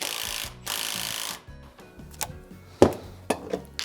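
A Kobalt 24-volt Max right angle impact wrench tightens a bolt close up, with bursts of whirring and sharp rattling hammer impacts that come in short uneven pulses, then several distinct clacks.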